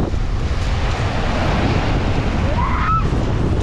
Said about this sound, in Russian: какое ветрище!